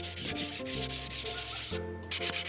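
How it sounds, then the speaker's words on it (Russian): Fine sandpaper rubbing surplus filler off an old wooden pouf down to bare wood, a steady close scratchy rasp in long strokes with a brief pause near the end, no voice. "Мелкой наждачкой вплоть до дерева сняли лишнюю шпатлевку и обеспылили поверхность."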